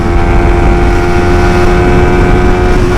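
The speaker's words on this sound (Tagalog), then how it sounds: "Full throttle." A Yamaha Sniper 155 motorcycle at full throttle in fourth gear, its engine screaming at a high, steady pitch with a strong whine, loud and continuous.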